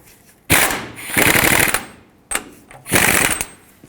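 A power tool drives a tie rod mounting nut on a 2008-2010 Ford F-250 through a 21 mm socket, giving two loud, close bursts of rapid hammering rattle separated by a short pause.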